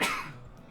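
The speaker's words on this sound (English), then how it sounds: "I'm gonna sneeze." A single abrupt sharp burst from a person, close and loud, then quickly fading, brief like a sneeze or cough.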